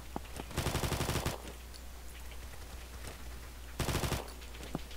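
Automatic gunfire in the online shooter Combat Master, two rapid full-auto bursts about three seconds apart, loud and close, with a few single shots scattered between them.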